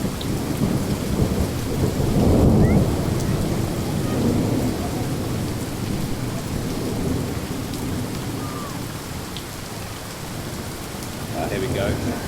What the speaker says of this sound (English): Atmospheric rain.